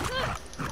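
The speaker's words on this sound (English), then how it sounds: "Where's the dog at? I hear him." A dog whines in The Last of Us Part 2, a short rising and falling tonal whimper followed by a softer second whine, close and moderately loud.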